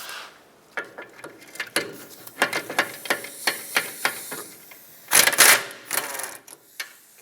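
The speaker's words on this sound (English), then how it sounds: "with a 14mm socket, remove these 2 bolts that hold your caliper bracket onto the knuckle" A socket wrench with a 14mm socket works the caliper bracket bolts off the rear knuckle of a 2007-2010 Chrysler Sebring, giving close, rapid ratcheting clicks in uneven bursts with a louder flurry near the end.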